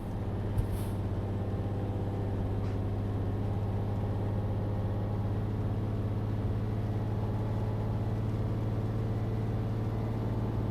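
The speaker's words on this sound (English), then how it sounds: "Can hear the turbo in this engine kicking in there" Truck engine in Euro Truck Simulator 2 as the turbo spools up, a steady loud low drone with a strong hum and rising whine, continuous throughout with a brief hiss near the start.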